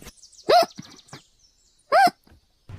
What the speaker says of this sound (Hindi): तभी उसे बहुत ज्यादा हिचकी आने लगती है